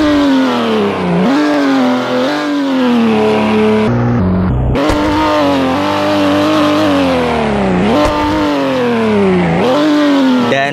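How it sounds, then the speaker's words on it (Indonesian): A powerful car engine revs up and down repeatedly, loud and close, with a brief cut in the middle before roaring again. "kita coba gas untuk suara mobilnya"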